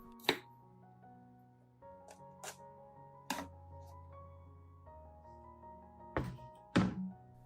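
Onion being chopped with a knife on a cutting board, a handful of sharp separate thunks spread unevenly over several seconds over a steady low background hum, the last two strikes louder and closer.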